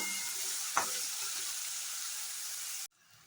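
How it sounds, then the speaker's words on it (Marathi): Chopped onion and tomato frying in hot oil, a steady loud sizzle with a brief clatter of stirring, cut off abruptly near the end. "कांदा थोडासा फ्राय झाल्यानंतर त्याच्यात हा टोमॅटो घालायचा आहे आणि चांगला तेलात परतून घ्यायचा आहे"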